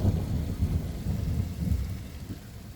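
Low, rolling thunder rumbles steadily through a spring rainstorm, with rain falling steadily underneath and no distinct sharp crack, a continuous deep grumble that slowly eases.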